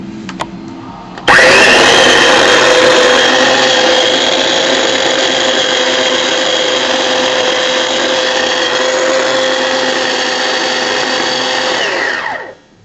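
A food processor chops taco salsa ingredients, a loud steady whirring blade that starts abruptly, holds a constant buzzing drone for about eleven seconds, then winds down and stops.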